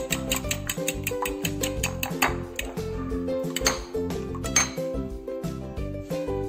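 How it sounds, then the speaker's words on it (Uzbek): Eggs and salt are whisked in a bowl with a utensil, producing a rhythmic series of bright clinks and taps against the dish. The strikes come quick and close, with soft wet squishes between them. "endi tuz ozgina tuz qo'shib yuboramiz yaxshilab aralashtirib olamiz"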